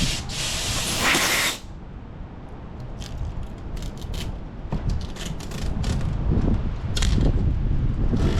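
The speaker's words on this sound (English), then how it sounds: "compressed air definitely made it easier to get off" Compressed air blowing hard against window tint film during removal, a loud broadband hissing burst for the first second and a half, then continuing softer rushing and sputtering bursts of air as the film is worked off.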